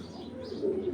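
A racing pigeon, a black male of large Netherlands bloodline, gives a soft, low cooing call that swells near the end of a brief one-second moment, close and fairly quiet.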